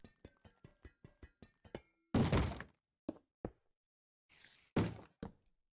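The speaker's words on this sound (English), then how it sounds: "who's banging on the door?" In a Minecraft map, a door is hit in a quick run of light knocks, then heavier thuds and bangs come at uneven gaps, loud and dry with silence between.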